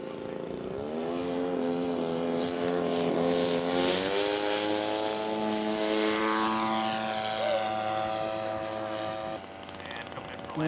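A scale model propeller airplane flies at an air show, its engine droning steadily with a rising pitch as it passes, loud and close, sometimes slightly masked by gusty wind.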